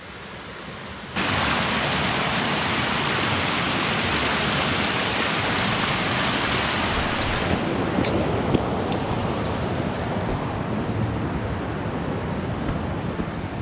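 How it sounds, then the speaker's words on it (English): A small creek near a trailhead, swollen after heavy storms, rushes in a steady broadband wash that starts abruptly and holds loud and close throughout, with no talk. "It's a nice little creek here though"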